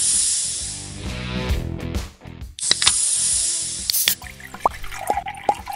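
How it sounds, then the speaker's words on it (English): Layered fizzing and bubbling soda effects for a Coca-Cola motion graphic, with hissing sprays, drips and popping bubbles, some sections dense and loud, others thinner with scattered pops and bright trickles. "for sound design, use bubble and soda sounds underneath the layers"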